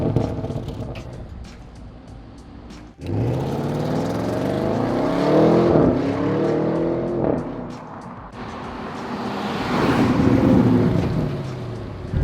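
An Audi RS6 Avant wagon drives by on a street. Its engine swells loudly and close as it passes, eases off, then builds again in a second strong pass.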